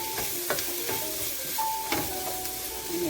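Seasoned shrimp sizzle in hot oil in a pan for Jamaican curry shrimp, a steady close frying hiss broken by light stirring scrapes and a few clicks.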